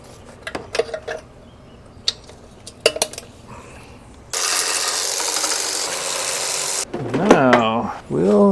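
Ratchet wrench loosening exhaust manifold bolts on an engine teardown, heard as short clicking bursts, then a long broadband ratcheting stretch, near and fairly loud, with a brief voice near the end.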